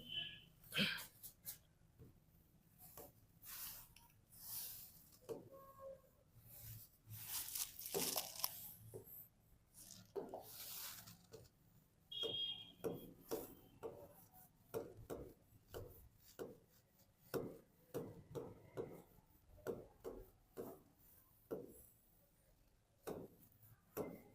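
Writing on a board during a class 10 biology lecture: a long run of faint, short scratchy strokes and taps in irregular bursts, quiet and close with no speech.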